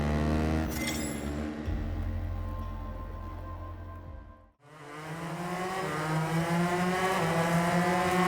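KTM 390R motorcycle at Valencia in RIDE 4, engine note close and loud, a steady high rev that drops away sharply, cuts almost to silence, then climbs back as the bike accelerates through the gears.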